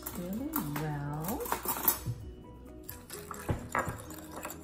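Utensils clink against a bowl or plate as lemon or lime juice is mixed into food for crispy Vietnamese fried chicken with rice, scraping and tapping under a person talking throughout, with close, moderately loud sounds.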